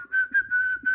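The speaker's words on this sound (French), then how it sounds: "Le renard noue le sac, le jette sur son épaule et s'en va en sifflant." A steady, clear whistled tone held for about a second, with slight pulsing, sounding close and alone.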